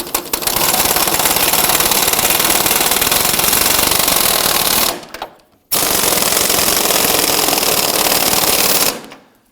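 An impact wrench rattles hard and fast as bumper bracket bolts are snugged down on a 2015-2020 Ford F-150, two long loud bursts separated by a brief gap, with no talking.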